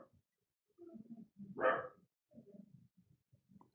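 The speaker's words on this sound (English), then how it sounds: "I hear Copper whining and Shorty barking out there." Dogs outside a house give short, faint barks and whimpering whines in irregular bursts, with one louder bark in the middle, heard from a distance.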